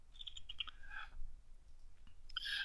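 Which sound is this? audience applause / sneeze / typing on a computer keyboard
typing on a computer keyboard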